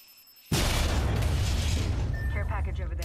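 A sudden loud explosion blasting a hold open in the video game Apex Legends, a heavy boom that bursts in and rumbles on with dense noise, with voices talking over it near the end.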